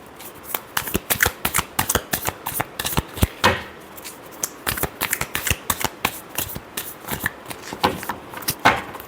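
Tarot cards being shuffled by hand, a rapid irregular run of crisp riffling flicks and slaps, close and clear with no talking.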